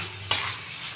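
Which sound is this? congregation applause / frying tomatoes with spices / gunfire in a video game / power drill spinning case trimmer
frying tomatoes with spices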